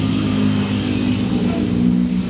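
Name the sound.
Yamaha Mio S40 scooter engine revving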